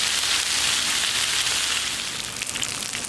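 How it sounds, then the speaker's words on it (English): Bacon sizzles on a 36-inch Blackstone flat top griddle set to medium high, a dense, steady crackling hiss heard close and alone throughout. "who doesn't like to watch bacon sizzle on a flat top?"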